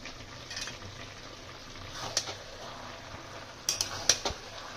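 Shredded cabbage cooked with fish head being stirred in a pan after coriander leaves go in, a quiet low sizzle broken by a few sharp metallic spatula clinks toward the end.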